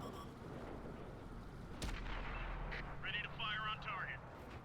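A T-34-85 tank gun fires once in World of Tanks, a sharp loud boom with a rumbling tail, followed by fainter battle sounds while someone talks throughout.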